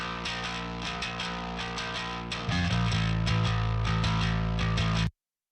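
Distorted bass guitar run through two amps at once, clean low end with grit in the mids and a clanky pick attack; rhythmic plucked notes, then a thicker, louder sustained passage that cuts off abruptly.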